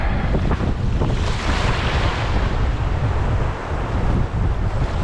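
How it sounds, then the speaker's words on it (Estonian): Strong, steady sea wind blowing at over ten metres per second on a sea trout fishing day, roaring loudly and continuously against the microphone along with the rush of surf, with no voices. "Aga ühtlane tuul on ikka pidev selline 10+ meetrit sekundis."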